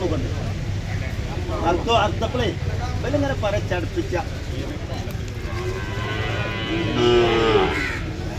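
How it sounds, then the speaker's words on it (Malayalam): Buffalo lowing at a farm or market in a Malayalam-speaking area, several drawn-out moos of middling loudness over steady background chatter and crowd noise. "എല്ലാത്തിനുള്ള പോത്തൊക്കെ തന്നെയാണ്"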